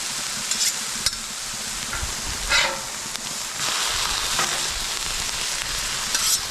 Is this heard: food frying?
yes